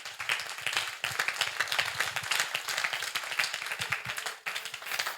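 A church congregation claps and applauds together in a dense, steady burst of many hands, sustained and loud for several seconds with a brief dip near the end.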